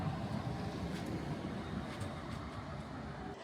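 Inside a moving London tram, a loud, steady rumble and roar of the ride fills the space evenly and continuously, with no voices.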